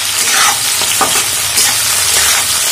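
Potatoes and poi saag stalks stir-fried in a pan, giving a loud, continuous sizzle broken by scraping stirs and tossing bursts, close up with no voices.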